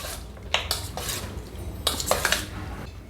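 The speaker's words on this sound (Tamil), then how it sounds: "லெமன் ஜூஸ் சேர்த்தாச்சு. இது நல்லா மிக்ஸ் பண்ணிக்கிறேன்." Chicken pieces coated in masala are mixed with lemon juice in a bowl, the spoon scraping and clinking against the dish in a few sharp close bursts over a low steady background.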